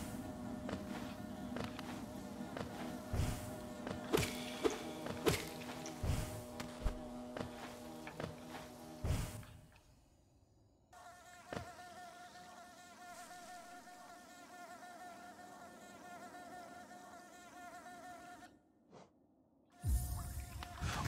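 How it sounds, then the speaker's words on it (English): A steady insect-like drone from a bee in the video game Hollow Knight hums for most of the stretch, first beneath busier game sounds and then almost alone after they drop away, before other game noise returns near the end. "I thought that sound was in real life and not in the game, the bee sound."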